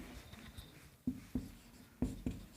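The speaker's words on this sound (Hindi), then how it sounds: "चलिए लिख देता हूँ" Chalk or marker tapping and scratching on a board while a formula is written by hand, with soft strokes and a few crisp taps in pairs, faint and close, no talk.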